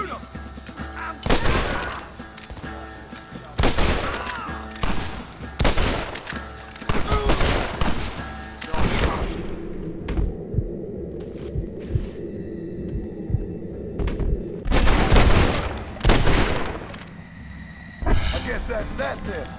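Gunfire in a Red Dead Redemption shootout with United States Army soldiers: sharp, loud, close shots fired in quick irregular bursts, then a lull with a low rumble before more shots, and voices shouting over the fight.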